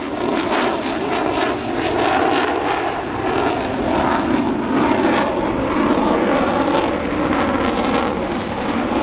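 An airplane flies a tail-off pass at the Tampa Bay AirFest at MacDill Air Force Base, its engine droning loudly and continuously with wind buffeting the microphone in repeated gusts.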